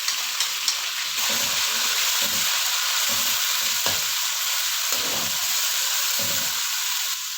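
Marinated chicken frying in oil in a wok, a loud, continuous sizzle and hiss throughout, with repeated stirring scrapes and bumps breaking through at a steady pace.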